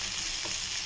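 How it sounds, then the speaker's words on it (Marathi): Prawns frying in a pan in a village home kitchen give off a steady, close sizzle and crackle for under a second, with no voices. "कोलंबी ठेवले फ्राय करत"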